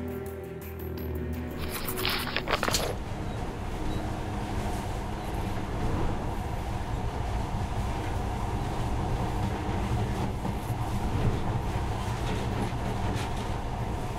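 A monorail train runs in the post-apocalyptic game Metro Last Light, a steady rumbling rail drone with rattling carriage noise that holds loud and continuous throughout, after a brief clatter near the start.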